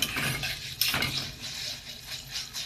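Vermicelli being stirred in a frying pan: close scraping and clinking of a utensil against the pan over a soft frying hiss, with irregular strokes and no talking.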